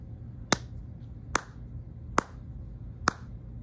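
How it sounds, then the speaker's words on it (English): Four sharp single hand claps ring out in a steady rhythm, each crisp and isolated with quiet gaps between them, close by against a low hum. "Let's clap again."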